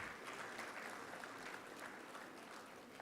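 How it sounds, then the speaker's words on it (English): Audience at the Ayusharda 2025 event at Sharda Hospital applauding a teacher and dean: even, continuous clapping from a crowd, heard at a distance and fairly quiet, with no voices. "Please give a round of applause to our teacher and dean,"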